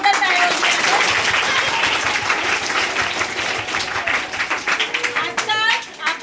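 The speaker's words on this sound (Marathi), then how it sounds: "घरात मॅडम साठी एकदा जोरदार टाळ्या वाजवा." Loud, sustained applause for a teacher at a Marathi Language Day school quiz event, steady clapping from a crowd throughout with a voice briefly audible near the end.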